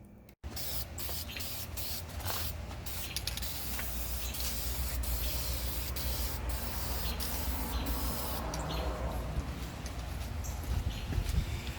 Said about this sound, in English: we're just priming this with some high heat primer